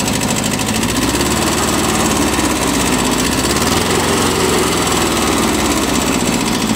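A Japanese Kubota B6000 4WD small tractor engine idles steadily and close by, a constant rattling drone with no breaks and no voices.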